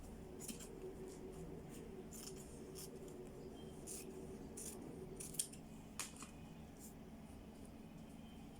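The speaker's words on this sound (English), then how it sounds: "You can cut off the excess if you want." Scissors snip through excess fabric while a fabric wallet purse is being made, a series of faint, crisp cuts scattered over a quiet background hum.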